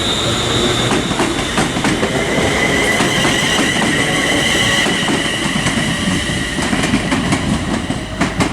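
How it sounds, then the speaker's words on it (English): A London Northwestern Railway train pulls out of Liverpool South Parkway station on the West Coast Main Line, with a loud, steady rumble of wheels and rail noise, faint squeals and rhythmic clicks throughout. "departing now is the 1316 London Northwestern Railway service to Birmingham New Street from Liverpool Lime"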